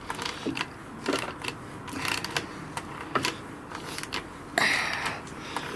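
Ratcheting clicks from a 10mm socket tightening a bolt on a Lextek exhaust being fitted to a BMW R1200GSA motorcycle, a series of short close mechanical ticks with brief pauses and no talk.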